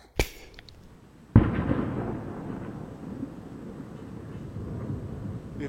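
Dynamite goes off in Bolivia. A sharp crack is followed by a second, heavier blast about a second later, and a low rumble then hangs on, fading slowly and remaining faint.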